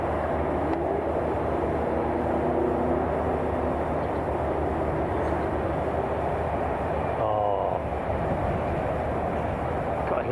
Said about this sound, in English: Lovely old cargo jet coming out.